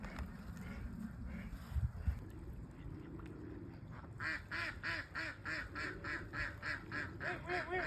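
Wild ducks of a duck family quack in a steady run of rapid calls that grows louder as the flock approaches, rising out of outdoor background noise near water.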